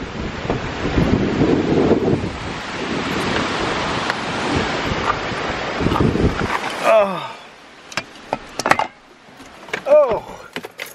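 Strong gusts buffet a camera microphone fitted with a wind muff outdoors near a car on a very windy day, a loud roaring rumble that drops away midway to leave brief knocks and a voice.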